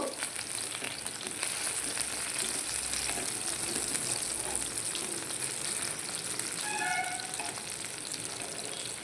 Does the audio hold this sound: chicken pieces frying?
yes